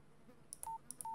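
Two pairs of telephone keypad tones dial a number in a horror video game, each short beep followed by a longer tone, clear and close against a faint low background hum.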